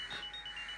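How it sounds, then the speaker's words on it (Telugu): A mobile phone ringtone sounds from inside a bag, a faint, muffled electronic tone lasting under a second with no voices over it. "ఈ బ్యాగ్లోంచి మొబైల్ రింగ్ వస్తుంది సార్."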